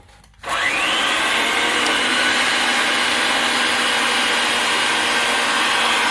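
Ridgid 300 pipe threading machine cutting threads on a pipe, starting with a brief quiet moment and then a loud, steady motor whir and grinding hum that runs unbroken and close.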